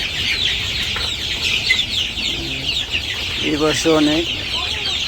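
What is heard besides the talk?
chickens clucking inside a poultry farm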